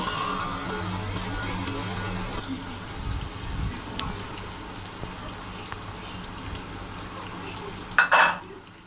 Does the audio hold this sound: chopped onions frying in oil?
yes